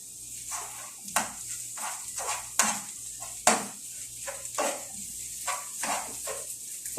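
A spoon stirs cooked egg and beans in a hot pan for a Mexican torta, with repeated scraping strokes over a steady sizzle, close and moderately loud, with no talking.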